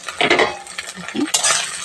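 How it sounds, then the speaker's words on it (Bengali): Potatoes and lightly browned onion frying together in a pan, with a bright sizzle and scraping stir strokes, a short pause in the middle and a louder sizzling burst afterward. "আলু দিয়ে দেব নাহলে পেঁয়াজটা লাল বেশি হয়ে যাবে আলুটা ভাজা হবে না"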